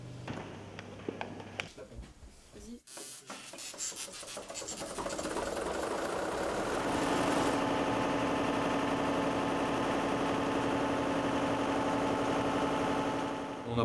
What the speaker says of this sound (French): vous allez voir le moteur qui démarre